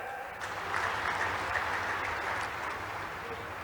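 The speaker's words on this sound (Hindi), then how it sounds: "यशस्वी प्रधानमंत्री नरेंद्र मोदी जी के लिए जोरदार ताली बजाए" A crowd at a farmers' conference in Chhatarpur, Madhya Pradesh, applauds loudly for the Prime Minister, a dense wash of clapping that swells and holds for a few seconds.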